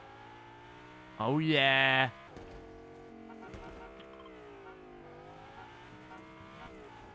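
A Lamborghini Huracan drives in the Fortnite video game, its engine droning steadily. There is a sudden loud rev burst near the start, then a lower hum as someone speaks briefly.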